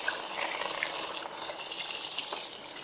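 A Rad Power RadRover e-bike splashes through standing water on a dirt trail, giving a steady, close hiss of spraying and churning water for the whole stretch, with no one talking.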